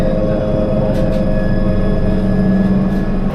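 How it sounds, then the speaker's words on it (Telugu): A train starting to move on a trip from Karimnagar to Tirupati, heard as a loud, steady low rumble and hum of the carriages throughout, with no voices over it. "ఫ్రెండ్స్ ట్రైన్ స్టార్ట్ అయింది."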